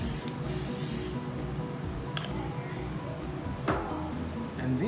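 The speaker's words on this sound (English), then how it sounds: "It needs to be well greased. So get your cooking spray," Cooking spray coating an oven-safe dish, a steady hissing aerosol burst that runs for several seconds over a constant low background hum, with one brief clatter near the end.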